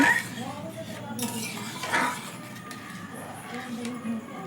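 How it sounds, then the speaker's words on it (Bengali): A spoon stirs chana dal with salt in a cooking pot, making light metallic clinks and scrapes close by, with a voice speaking over the stirring. "নুন দিয়ে এখন মিশিয়ে একটু নাড়াচাড়া করে খুব ভালো করে ফুটিয়ে নিব"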